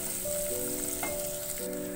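Almonds, cashews and ginger fry in a pan over a high flame, giving a soft, steady close sizzle with a faint tonal hum beneath it.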